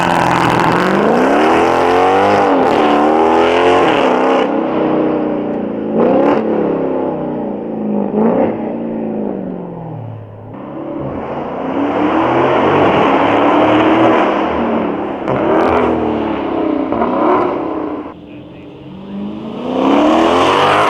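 A Dodge Charger Scat Pack Widebody engine revs repeatedly while parked, rising and falling in pitch with throaty roars, loud and close, separated by brief idling dips.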